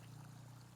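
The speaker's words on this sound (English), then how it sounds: "That waterfall noise you hear is right here." A small backyard garden waterfall, homemade, runs with a steady continuous splash of falling water close by, no voices over it.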